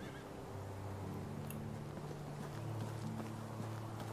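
Horse in the video game Medieval Dynasty whinnies and rides off, soft hoof clip-clop under a steady game ambience drone with low tonal music.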